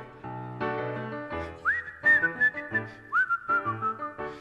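Concert audience whistling along with the band, several bright tuneful whistled phrases rising and sliding over a steady musical backing, loud and close, with no talk.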